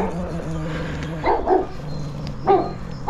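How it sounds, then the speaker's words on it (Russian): Dogs bark outdoors at a moderate distance, two quick barks followed by another bark a second later, over a steady background hum. "Собаки шли, напугался немножко."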